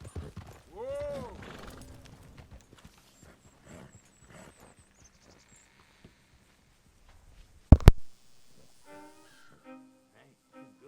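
Horse hooves clip-clop across the ground in a game scene, mixed with a snort and other game effects, then a sharp loud burst and scattered tones.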